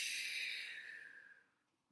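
A voice imitates snoring during a children's storytime reading: one drawn-out, breathy, hissing snore that starts fairly loud and fades away over about two seconds, with no talk around it.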